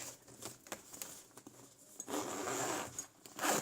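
A zipper being drawn open on a new school bag, producing several short rasping bursts followed by a longer, louder pull, close and fairly quiet with no talking.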